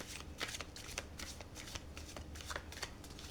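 Angel oracle cards are shuffled close up in a quick, continuous run of crisp riffling flicks, fairly quiet and with no voices.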